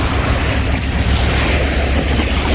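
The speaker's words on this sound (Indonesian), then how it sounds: "Suara mesinnya halus banget." A pontoon boat cruises on the sea near Karimunjawa, a loud, steady roar of engine, wind and rushing water with no pauses.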